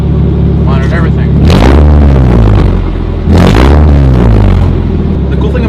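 Nissan 240SX S13 engine running after start-up, deep steady idle rising into two strong revs that climb and fall back, loud and close.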